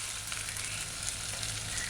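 Fish and pepper stir-fry with carrot sticks sizzling steadily in a hot pan, a continuous close crackling hiss with no pauses and no voices.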